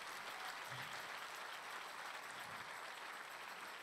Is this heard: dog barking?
no